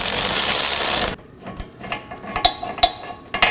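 A ratchet loosens 18mm caliper bracket bolts on a 2018-2024 Chevrolet Equinox rear brake: a loud whir at first, then a run of quick, close clicks and metallic clinks.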